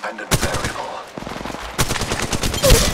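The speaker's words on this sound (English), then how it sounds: "Getting shot at." Rapid automatic gunfire in the Apex Legends video game, with dense bursts of shots in clusters, loud and close, and brief pauses between them.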